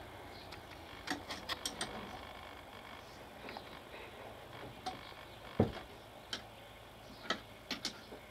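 Wheel of a homemade tandem bicycle spinning, giving a soft, irregular run of faint mechanical ticks over a low background hum.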